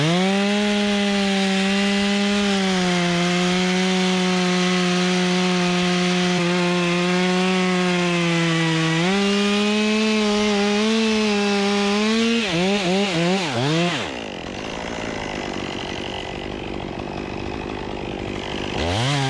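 Chainsaw cutting a notch into a large tree limb during a big rigging job, a close, loud, sustained engine whine that dips under load, then breaks into a coarser wood-chewing rasp near the end.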